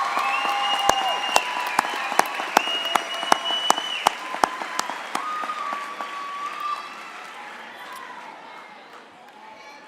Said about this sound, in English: How about another round of applause for Mr. King and the Greece Brass Ensemble?